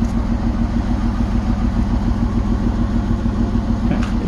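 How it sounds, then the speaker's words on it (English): Jeep Liberty engine idling steadily nearby, a continuous low rumbling exhaust note with slight irregular pulsing, no talk over it and a faint clatter near the end. "Nice, the exhaust spitting out stuff."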